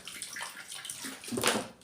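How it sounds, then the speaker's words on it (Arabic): Water pours into a jar of pickled eggplant, a close, continuous splashing stream that swells louder toward the end, with no talking. "كمان شويه ميه"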